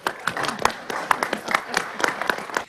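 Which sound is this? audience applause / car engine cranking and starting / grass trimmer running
audience applause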